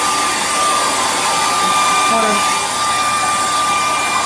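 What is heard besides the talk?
blow dryer pushing epoxy paint across countertop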